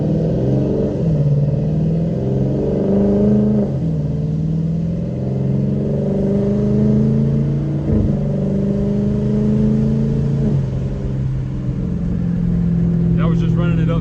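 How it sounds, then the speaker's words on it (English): Dodge Challenger R/T with a Hemi V8 revving in manual mode, the engine rising to around 3,000 rpm and dropping back in repeated loud, close sweeps. A voice is heard over the engine. "just listen to this Hemi"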